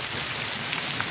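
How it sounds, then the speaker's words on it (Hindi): A brief burst of heavy downpour after months of drought, an even, enveloping hiss of rain striking the ground nearby with no voices. "ये देखिए जनाब बहुत तेज़ बारिश हो रही है फर्स्ट क्लास"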